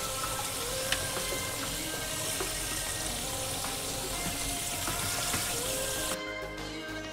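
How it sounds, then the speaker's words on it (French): Cold tap water runs steadily over veal pieces for a blanquette, a constant loud splashing hiss that continues for about six seconds and then cuts off abruptly. "je rince avec de l'eau froide, comme ceci"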